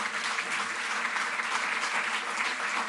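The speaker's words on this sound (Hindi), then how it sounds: "जोरदार तालियां बजती रहें।" Dense, steady applause from a large crowd fills the hall at a Delhi government ceremony honouring athletes with financial support. The clapping holds at an even, sustained level throughout.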